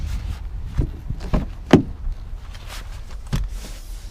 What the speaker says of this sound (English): This also has the sliding power doors.